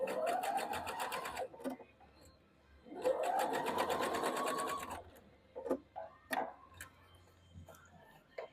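A sewing machine stitches quilt rows in two steady runs of rapid whirring, each lasting a couple of seconds. Short handling clicks and soft knocks fill the gaps between runs, with faint talk nearby.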